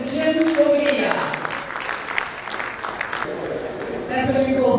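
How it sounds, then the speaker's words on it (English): Audience applause at the Millennium Excellence Foundation award ceremony in Uyo, 2014: a sustained crowd clapping filling the hall, with a voice over a PA system speaking over it at the start and end. "A big round of applause for Jim Ovia."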